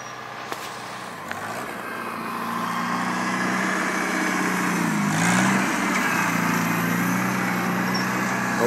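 A small Farmall Cub tractor plows about eight inches deep on a farm, its engine droning steadily and growing louder as it works, with no talking.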